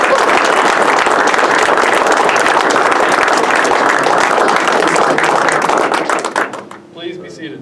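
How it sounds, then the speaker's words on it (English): Audience applause fills a graduation ceremony for a new class of Dirt Boyz, steady and dense clapping from a large crowd that carries on for about six seconds before fading out. "let's give a round of applause to our newest Dirt Boyz."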